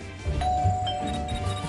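A doorbell rings in the Scary Teacher 3D video game, a clear electronic ding-dong tone sounding alone over quiet game ambience.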